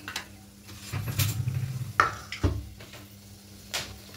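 Whole garam masala spices sizzle in hot refined white oil in a kadai, with soft scattered crackles, a few louder bursts and some spoon-on-pan clinks, close and otherwise quiet.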